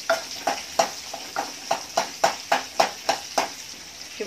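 Onions stirred lightly in a frying pan give a soft sizzle under regular scraping strokes, about two per second, close and moderately quiet.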